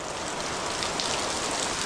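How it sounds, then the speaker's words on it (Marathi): Steady rain falls on fields and trees, a dense even hiss of drops close by, alone with no voices. "चारी बाजूने पूर्ण अंधार केलाय पावसाने आणि पडतोय"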